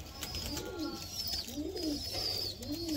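Kalanka pigeons coo in soft, repeated rising-and-falling calls, close and moderately quiet, against a steady background hiss.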